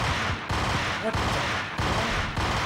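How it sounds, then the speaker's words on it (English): Gunfire in the video game Max Payne comes as loud, rapid bursts of shots that repeat in quick pulses across a constant, dense din. "Where's he firing from?"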